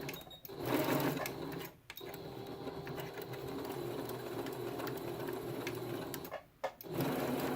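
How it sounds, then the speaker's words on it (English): A sewing machine stitches a homemade fabric mask, running in a steady rapid whirring chatter close up, with brief pauses between runs and no talking. "let's go ahead and sew this one just so I can finish it."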